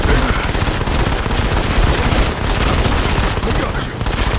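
Sustained machine gun fire in the shooter game Modern Combat 5, a dense, continuous rapid burst that stays loud and close throughout, with faint voices mixed into the chatter of shots.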